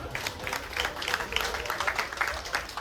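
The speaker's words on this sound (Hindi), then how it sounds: "ताली बजा दो" An audience claps at a birthday gathering, a steady patter of hands running throughout at moderate loudness with no single standout claps, and voices mixed faintly into it.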